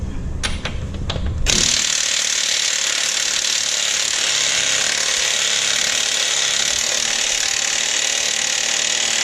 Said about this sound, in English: You're going to take an impact if you have one